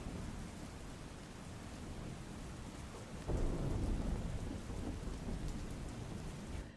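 Heavy rain pours steadily, then a deep roll of thunder rumbles in and lingers under the constant hiss of the downpour.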